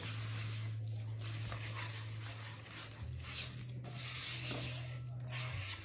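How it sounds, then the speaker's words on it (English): Cinnamon applesauce is stirred for pumpkins: soft, repeated rubbing and scraping strokes, close and quiet, over a steady low hum. "Stirring, stirring, stirring."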